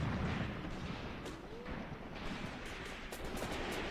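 Mortar rounds fire and land in a Graviteam Tactics battle, heard as faint, distant thumps and muffled booms scattered across a low, steady battlefield rumble.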